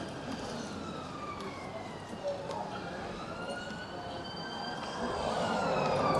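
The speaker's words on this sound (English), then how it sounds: "Oop, I can hear sirens, it's kicking off." Emergency vehicle sirens wail along a seaside shopping street in Cleveleys, their rising and falling tones carrying from some distance over steady street bustle, with faint voices nearby.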